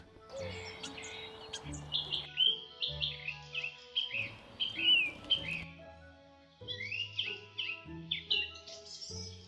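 Starlings chirp and whistle in a busy, overlapping chorus of high, squeaky calls near their roost at dusk, rising and falling in bursts with brief gaps, fairly close.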